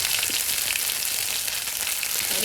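Curry leaves fry in hot oil with a loud, dense hiss and crackle that stays constant and close, with no voice over it.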